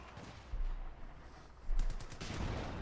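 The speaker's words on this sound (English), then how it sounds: "Gonna use the fire from the Panzer IV." Panzer IV tank gun fire in a World War II video game: heavy booming shots with low rumble, a couple of loud blasts amid steady battlefield noise, no talking.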